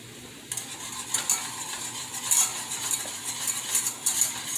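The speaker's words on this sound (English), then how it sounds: "I let that 1/2 cup of heavy cream go for a while and reduce" Heavy cream bubbles and reduces in a pan with shallots and garlic, a steady soft sizzle broken by repeated scraping and stirring clatters of a utensil against the pan.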